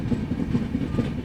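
Uttar Sampark Kranti express train rolling slowly on the rails near Rajpura Junction, a steady close rumble with a soft repeating clatter from the wheels.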